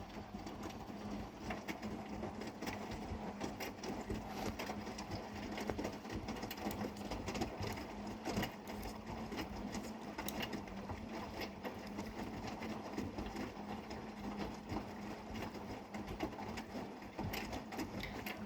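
An Electrolux EWF14933 front-loading washing machine runs with a faint, continuous mechanical churn and irregular rattling thumps, steady throughout with no talking.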